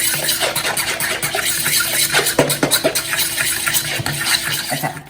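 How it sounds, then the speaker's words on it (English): A whisk beats vegan muffin batter made with applesauce in a bowl, giving a continuous close, busy clatter and swish with rapid rhythmic strokes throughout. "all I'm going to do is whisk this together"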